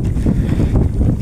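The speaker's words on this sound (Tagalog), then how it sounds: "aga pa lang, lakas na ng hangin." Strong wind buffeting the microphone in loud, low gusts, constant and close, with no other sounds standing out.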